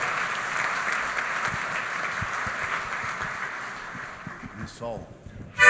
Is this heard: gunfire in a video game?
no